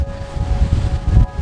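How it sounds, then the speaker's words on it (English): Wind buffets the microphone outdoors on a walk in stormy weather, in low, gusty rumbles that rise and fall over a second or so, close and fairly loud, with no talking. "it's definitely windy today."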